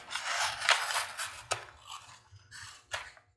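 Scissors trim a clear plastic adhesive sheet up close, giving several crisp snipping and crinkling cuts in an uneven rhythm, with a quiet pause between strokes.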